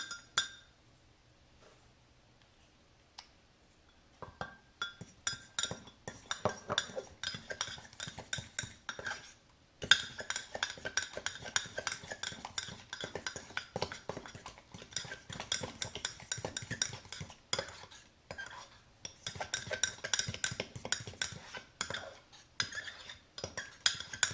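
A utensil stirring egg into mug cake batter, giving quick repeated clinks and scrapes against the mug that start after a quiet opening, briefly pause, then resume in busy bursts.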